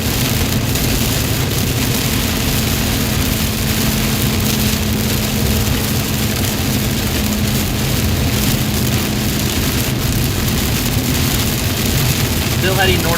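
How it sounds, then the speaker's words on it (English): Steady, dense heavy rain roaring on a vehicle during a storm in North Texas, continuous and loud throughout, with a low engine hum underneath. "And then you've got obviously the heavy rain."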